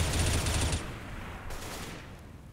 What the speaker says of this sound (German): Der erste Schuss kam da reingeflogen.